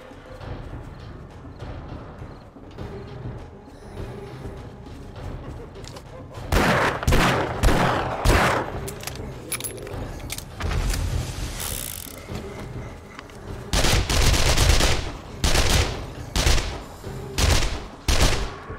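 Bursts of gunfire in the zombie survival game 7 Days to Die, loud clustered volleys starting partway through and recurring in strong rapid bursts over a quieter background, with occasional speech.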